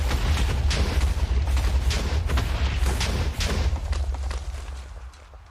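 Explosions in the video game Minecraft, a dense rumbling run of booming blasts with crackling bursts that fades away toward the end.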